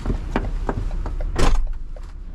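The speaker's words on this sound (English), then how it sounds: "Door sounding wonderful again." Door being worked open and shut in a row of short rattling knocks and scrapes, then a louder slam, close by with no talk.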